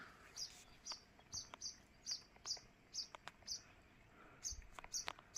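Birds chirp in short, high, repeated calls roughly every half second among fig trees where they feed on the ripening fruit, fairly close and clear over a quiet outdoor background with no talking.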